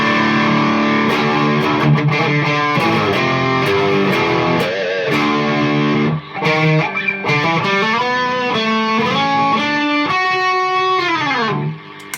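Heavily distorted electric guitar through an EHX Soul Food pedal (JHS modded) with amp distortion, played loud and continuous, sustained overdriven chords and bending notes with a chorus-like shimmer, briefly dipping midway.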